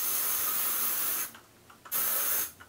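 Redken Workforce 09 flexible volumizing hairspray sprayed in two close, steady hissing bursts with a brief pause between, no talk.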